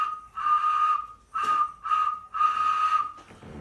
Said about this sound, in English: Little shell whistle. Just pop a hole right there into that chamber and blow across the top like a flute.